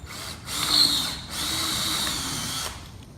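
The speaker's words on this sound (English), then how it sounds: "And drill our holes" Power drill boring screw holes into an old front door during an antique lock repair, two close whirring runs of about a second each with a short pause, then the motor winding down.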